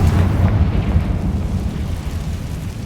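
A Confringo blast spell in the Hogwarts Legacy video game erupts in a loud, rumbling low explosion that holds steady and slowly fades, heard alone without talk.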